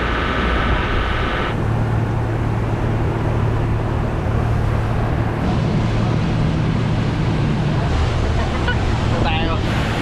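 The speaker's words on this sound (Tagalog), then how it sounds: "speedboat." A speedboat engine drones steadily near Manila, with constant rushing water and wind buffeting the microphone throughout, loud and unbroken.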